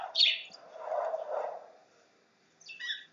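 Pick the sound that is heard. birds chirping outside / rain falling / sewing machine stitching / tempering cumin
birds chirping outside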